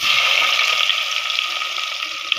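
Onions hit hot oil left from frying chicken, giving a loud, steady, bright hiss of sizzling that holds evenly with no talk.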